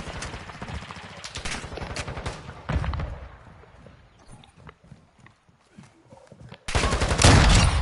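Gunfire in Call of Duty multiplayer, loud rapid bursts of automatic shots up close, then a quieter stretch of scattered single shots, ending in another heavy burst of fire.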